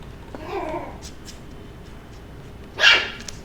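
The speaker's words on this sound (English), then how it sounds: "It's cute when he growls and then he barks." A dog gives a low growl and then one sharp, close bark, with quiet room noise between the two sounds.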